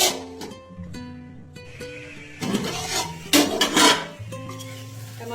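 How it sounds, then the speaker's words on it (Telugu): Tomatoes frying in a pan for an aloo chicken curry, stirred with a utensil that clinks and scrapes against the metal in irregular bursts, with a few louder scraping strokes partway through. "టమాటాలు లైట్ ఫ్రై చేయండి"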